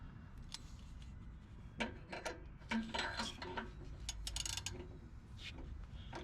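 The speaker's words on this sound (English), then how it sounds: "I'll get the socket and we'll tighten her down." Socket ratchet tightening an oxygen sensor on a Nissan Frontier 4.0, bursts of quick metallic clicking in short runs between pauses, close and fairly quiet with faint handling noise.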